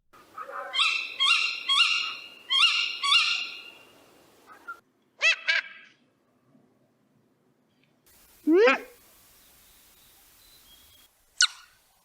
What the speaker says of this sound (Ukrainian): навіть вищі згадані сови часом можуть видавати звуки, які від них ніяк не очікуєш